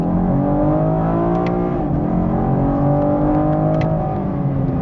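A 2016 Camaro's engine drones steadily while driving, a continuous close hum with gently shifting pitch and no talking over it.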